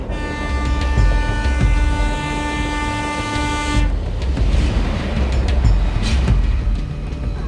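A train horn blares with a sustained tone for several seconds, then the horn cuts off and a heavy rumbling clatter of rail cars rolls past close by, beside a residential area in Makkaparambu.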